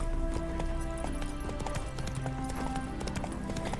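Horse hooves clip-clop at a steady trot in The Witcher 3, a rhythmic run of close hoofbeats over a continuous game ambience backdrop.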